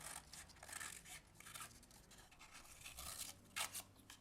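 Scissors cut a paper spiral for a pop-up craft, making quiet, close, uneven snipping and rustling with a few sharper snips near the end.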